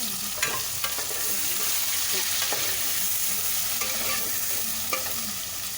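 Tomatoes and green chilies with ginger garlic paste sizzling and frying in a pan for masoor dal, a steady close hiss with occasional stirring clinks and scrapes.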